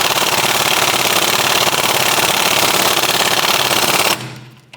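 Pneumatic impact wrench rattling continuously as it runs the strut mount nuts down on a 2006-2013 Chevrolet Impala rear strut and spring assembly, loud and close for about four seconds before cutting off abruptly.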